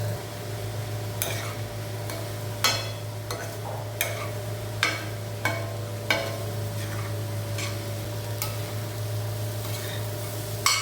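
Egg podimas sprinkled with pepper sizzles steadily in a pan over a constant low hum, while a spatula scrapes and taps against the pan in a string of irregular strokes.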